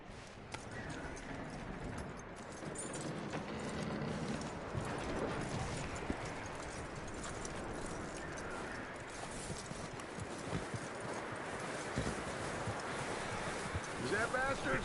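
Horse hooves clip-clop steadily on the ground in Red Dead Redemption 2, a continuous moderate trot heard amid wind and outdoor ambience, with a voice talking over it.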